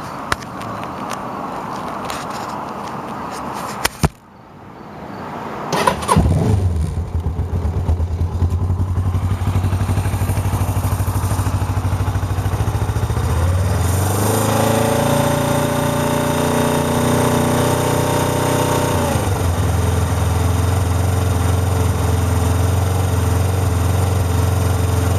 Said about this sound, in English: I better set the camera down because you got to pull the clutch in to make this thing start.